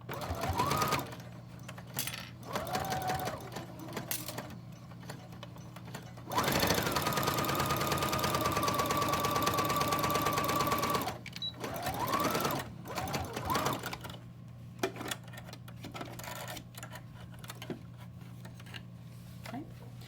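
A sewing machine stitches fabric past a dart, running close and loud in short stop-start bursts, then one long steady run of rapid needle chatter before a few brief bursts at the end.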